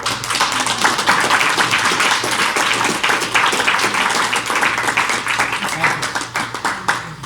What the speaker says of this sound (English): Nice clap.